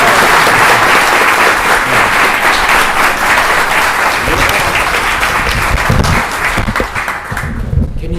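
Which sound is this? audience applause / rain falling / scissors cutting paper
audience applause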